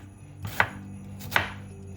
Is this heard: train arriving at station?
no